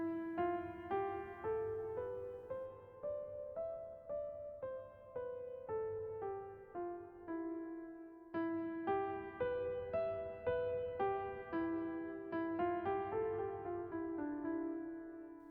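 An E Phrygian scale is played as a run of clean, evenly spaced melodic notes rising and falling in two phrases, soft and alone with no talking.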